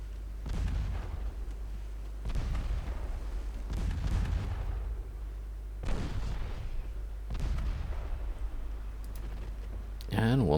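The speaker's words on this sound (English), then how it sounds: "5-inch guns" Rapid-firing 5-inch naval guns in Ultimate Admiral Dreadnoughts boom in a string of heavy, evenly spaced blasts, each followed by a rumbling decay.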